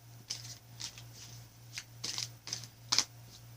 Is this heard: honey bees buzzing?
no